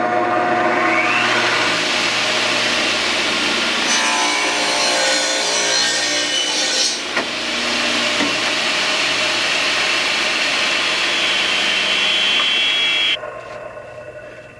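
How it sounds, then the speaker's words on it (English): A radial arm saw cuts wood boards to rough length: a loud, continuous motor whine with the blade biting through the stock in several passes, then the motor cuts off and spins down at the end. "my first step in building this is to cut my rough lengths on the radial arm saw"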